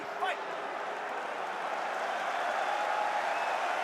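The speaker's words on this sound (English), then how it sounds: "Crowd loving it." An arena crowd at a UFC fight cheers and applauds in a steady, distant roar, with a commentator talking over it.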